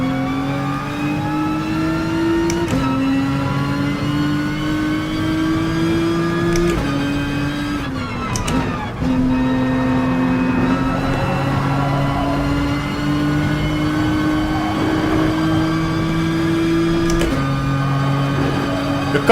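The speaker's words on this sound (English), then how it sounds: "The car sounds amazing" A very large car's engine revs and drones steadily in Gran Turismo Sport during a driving school run, its pitch climbing and dropping through repeated gear shifts, loud and continuous with no talking.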